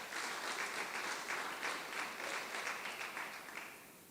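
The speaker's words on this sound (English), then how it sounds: "Can we give them a round of applause?" Steady applause from a graduation ceremony audience at Letaba TVET College, a dense crowd of clapping hands that holds evenly for several seconds and then slowly tapers off.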